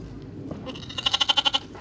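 Farm animals, sheep or goats, bleat in the yard of an open-air village museum; a short rapid series of loud, rhythmic bleats follows softer background noise, with no talking.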